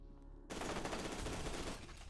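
Sustained rapid automatic gunfire in the shooter game Fear 2, a dense loud burst starting abruptly and rattling continuously for over a second before easing off.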